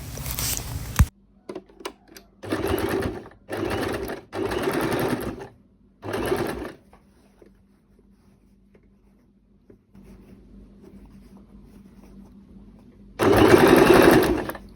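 Industrial sewing machine stitching the side pocket of men's trousers, in several loud bursts of rapid stitching separated by pauses with small handling clicks and a low steady motor hum, ending on one more burst.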